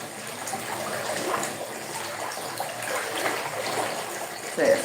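Hot water running from a tap, a steady soft splashing trickle that continues evenly with a brief louder splash at the end.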